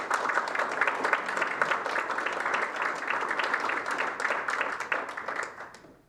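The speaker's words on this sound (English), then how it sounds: "let's give our panelists another round of applause" An audience claps for the panelists at a panel discussion on Black migration, a steady round of many hands with distinct claps in the mix, holding for several seconds before tapering off at the end.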